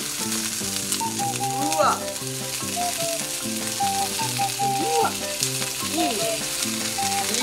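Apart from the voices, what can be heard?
meat sizzling in a frying pan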